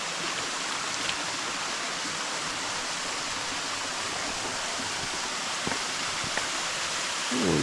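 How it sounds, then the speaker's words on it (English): Creek water rushes steadily during a creek crossing on a bush hike, a dense, close, continuous wash with a few faint knocks and a brief splash near the end. "First, creek crossing."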